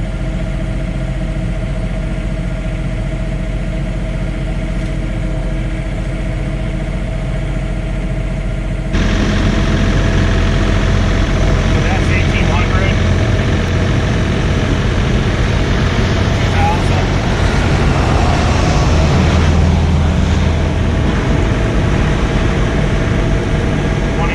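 John Deere 3046R cab tractor engine running at night in snow, a steady close rumbling idle that grows louder and rougher partway through as the revs rise, with a person talking over it.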